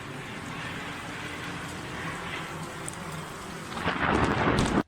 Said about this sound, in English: In 2020, this plane was struck by lightning when flying over Finland.